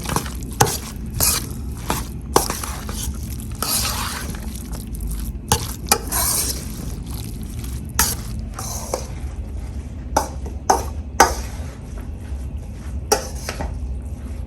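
Zucchini stuffing being stirred and mixed by hand in a bowl, with intermittent sharp clinks of a utensil against the dish over a steady low background, close and moderately loud with no talking.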